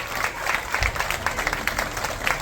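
An audience at an ashram anniversary celebration applauds honorees with dense, continuous clapping that holds steady throughout at a fairly loud level.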